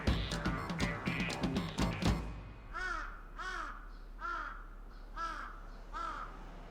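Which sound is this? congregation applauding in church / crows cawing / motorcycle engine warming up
crows cawing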